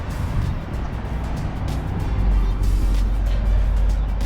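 Car or work vehicle rolling past on a road, its rumble building and deepening into a louder low roar in the second half, heard alone without speech.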